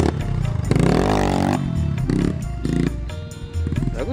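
Off-road trail motorcycle engine revving hard in rainy mountain terrain, loud rising and falling throttle bursts with sharp pitch sweeps and rough idle between pulls, close to the listener.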